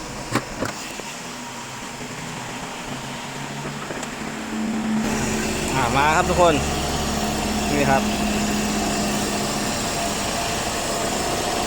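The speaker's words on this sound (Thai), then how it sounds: "เสียงเครื่องนิ่มๆ เลยนะครับ" A Toyota Vios car engine with manual gearbox idles with a low, steady hum that grows fuller halfway through, while someone talks over it.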